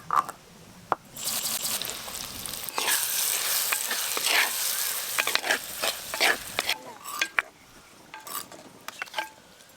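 Chopped onions hitting hot oil seasoned with sugar and asafoetida for a mutton curry, a loud burst of sizzling that settles into steady frying, with clinks and scrapes of a spatula against the pan and no talking.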